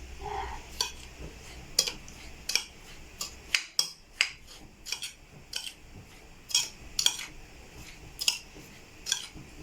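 A spoon mixes a potato nugget mixture with pilau masala in a bowl, giving a series of sharp, irregular clinks and taps over a quiet background. Close, with no talking.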